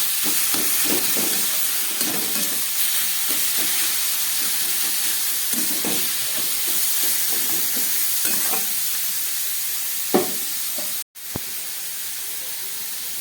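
Salted mashed radish dropped into a hot pan for a vegetarian dish, sizzling and hissing in a steady loud wash with soft stirring scrapes, a brief clatter near the end, and no talking.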